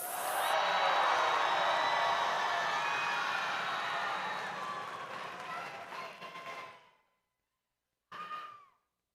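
Spectators at a robotics competition cheer for the Blue Alliance, a loud, dense crowd roar with screams that fades over several seconds, cuts out, then returns as a brief final burst.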